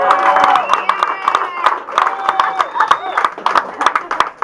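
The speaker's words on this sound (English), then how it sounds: "Give Cameron a round of applause" A comedy show audience applauds and cheers for a contestant called up on stage, with dense clapping and a few whoops while voices talk and call out over the crowd.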